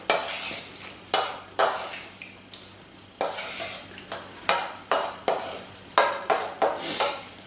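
A utensil mixes ceviche with lime juice in a bowl, making about a dozen rhythmic, close scraping clinks at a steady pace, with no talk.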